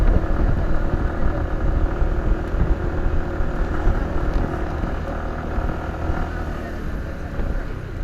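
A motorcycle taxi carries passengers, its engine rumbling steadily under constant wind roar throughout the ride, with faint voices now and then.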